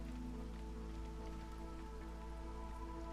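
Steady rain falls in the fantasy settlement game Against the Storm, a continuous even hiss of drops on surfaces with a low constant drone beneath and no voices.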